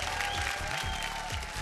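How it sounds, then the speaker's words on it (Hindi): Studio audience applause on a Hindi television game show, a fairly soft wash of clapping over a steady tone and low rumbling background. "जोरदार तालियां इनकी।"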